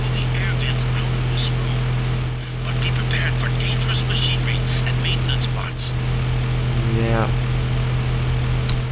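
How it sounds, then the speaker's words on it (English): In the video game Deus Ex, a main air circulation fan on the Gray Death ship drones with a steady low hum under game sounds and occasional clicks, while people talk intermittently over it. "This is the main air circulation fan."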